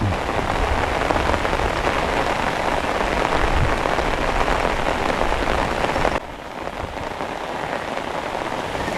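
Heavy summer rain pours down in a dense, steady hiss of drops on surfaces, loud and close, then drops abruptly to a slightly softer downpour near the end, with no talking.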